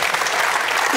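A television studio audience at a football talk show bursts into dense, loud applause, filling the short moment with steady clapping.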